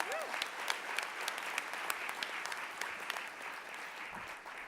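Conference audience at the JNF National Conference 2018 bursts into applause, a broad, steady roar of many hands clapping with occasional crisp individual claps standing out, filling the whole stretch at an even level.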